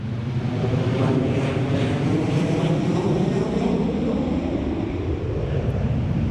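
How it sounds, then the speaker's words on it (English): A Ryanair airliner takes off from Lanzarote, its jet engines spooling up into a loud, broad, continuous roar mixed with wind buffeting that holds strong from start to finish. "this is Ryanair taking off from Lanzarote. Throttling up the engines"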